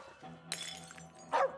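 A dog in the video game As Dusk Falls, during a motel hostage scene, gives two short sharp barks, a little apart and moderately loud, with no speech over them.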